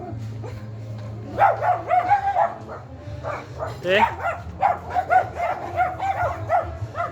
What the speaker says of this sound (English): Typical dog has to bark.